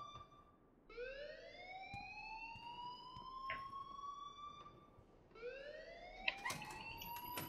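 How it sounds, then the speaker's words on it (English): An alarm rings in a video game, with two loud rising whooping sweeps, each swelling upward in pitch and holding, and a faint steady tone under the first. "please turn off that alarm since that's your job"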